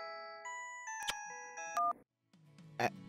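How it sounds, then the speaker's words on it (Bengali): Cartoon telephone call in a Bangla animated episode: several short beeping tones step up and down in pitch, then a brief pause, followed by a ringing burst near the end, with no talk over it. "কর্মকর্তা বাবু ফোন করছেন"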